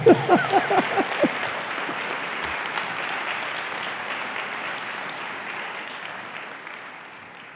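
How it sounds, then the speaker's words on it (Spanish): Church congregation clapping in praise during a sermon, opening with a few sharp, loud claps and a brief voice, then settling into steady, even applause that slowly fades. "Dar un aplauso al Señor."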